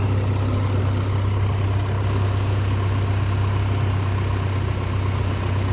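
A Suzuki Splash Sport engine idles steadily after its first crank on a correct ECU, a constant low rumble with an even drone and no speech over it.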